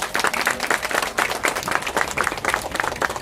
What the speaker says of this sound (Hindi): सबसे पहले अजय भाई के लिए एक बार जोरदार ताली बजाओ